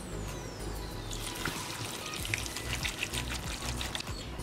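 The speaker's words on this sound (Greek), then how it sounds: "Και βάζω νεράκι μέχρι να τα σκεπάσει." Water poured into a soup pot over spinach, celery, onion and carrot, a steady, fairly quiet splashing trickle that runs throughout with no talking.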